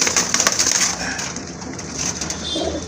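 A high-quality Lahori pigeon cooing among other pigeons, with low coos under constant rustling and crunching noise close to the microphone.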